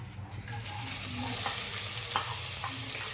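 Chopped onions added to cumin seeds frying in oil in a pan, a steady close sizzle with occasional stirring scrapes, no talking.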